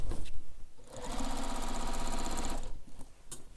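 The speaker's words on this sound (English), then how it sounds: "So I'm stitching across the bottom now, and then I'm going to come up this other side" A sewing machine stitches across the bottom seam of a fabric backpack in one steady, rapid mechanical burst of about two seconds, close up, with handling noise before and after.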